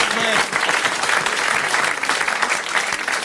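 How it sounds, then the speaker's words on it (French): A studio audience applauds on a 1985 French television show, sustained dense clapping filling the whole stretch, loud and steady, with a faint voice briefly at the start. "Vous applaudissez Madame Murby"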